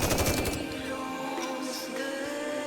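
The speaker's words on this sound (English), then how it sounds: "The counters pummeled the rapture's core with another hail of gunfire." A hail of gunfire in the video game NIKKE, a fast rattling burst up front that gives way to lingering ringing game sound and music.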